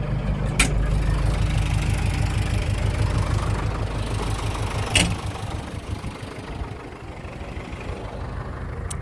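An LS tractor engine idles near a pendulum seeder after harrowing a field, a steady low rumble with a faint rhythmic knock and two brief clicks, no talk.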